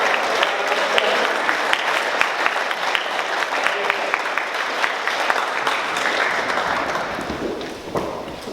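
A school prizegiving audience claps steadily and loudly for a prize winner, a dense, sustained wash of applause that fades slightly at the end.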